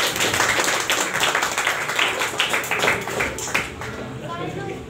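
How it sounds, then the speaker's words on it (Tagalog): A church congregation claps loudly for the Lord, with dense, rapid applause that fills the room and then slowly thins out, while voices mix in underneath. "Bigyan po natin ng malakas na palakpak ang Panginoon."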